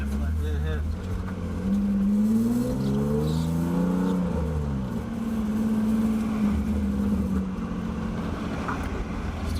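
A BMW E36 with a welded differential drives along, its engine droning steadily and rising and falling with throttle, while people talk inside the car over the noise.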